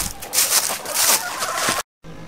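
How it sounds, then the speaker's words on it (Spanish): Hungry hens clucking loudly and continuously in a noisy, dense burst of overlapping calls, close by, before abruptly cutting out. "vamos a darle agua a las gallinas porque todas ya andan con hambre"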